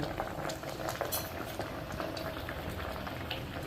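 A pot of sambar bubbles at a rolling boil, a close, busy crackle of popping bubbles and burbling liquid that runs continuously without any talk.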